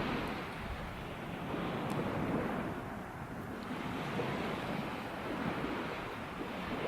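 Sea surf washes onto a beach in a continuous soft roar with gentle swells, mixed with light wind rumble against the microphone, fairly quiet and steady throughout.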